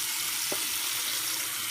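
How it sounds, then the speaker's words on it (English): A hot water tap turned on, with water running in a steady, hissing stream. A brief gurgle is heard partway through. The tap feeds from a tankless water heater. "turn on the hot water"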